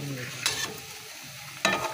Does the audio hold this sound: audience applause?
no